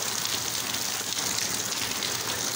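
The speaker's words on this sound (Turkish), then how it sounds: "Çok güzel yağmur yağıyor." Heavy rain pours outdoors in Muğla, Turkey, as a dense, even hiss of drops drumming on surfaces, steady and close with no voices.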